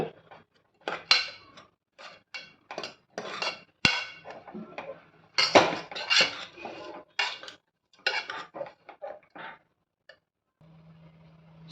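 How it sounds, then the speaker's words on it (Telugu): Repeated clinks and scrapes of a metal spoon crushing boiled horse gram in a steel vessel, in irregular bursts with short pauses, close and fairly loud. "ఉలవల్ని కొంచెం ఇలాగా క్రష్లో చేసుకోవాలి స్పూన్తోని"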